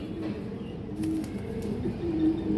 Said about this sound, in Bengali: এই যে দেখেন এটা মাদি কৌতরটা